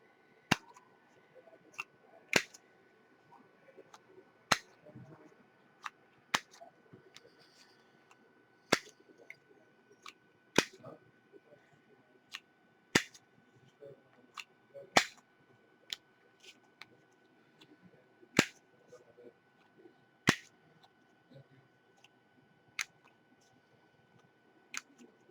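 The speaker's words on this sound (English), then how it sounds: "I'm going to go ahead and round the corners. I'm using the same size corner rounder" A handheld corner rounder punch trims the corners of paper cards for a mini journal, giving sharp, crisp clicks about every couple of seconds, a dozen or so in a steady series, with faint paper rustling between them and no talk.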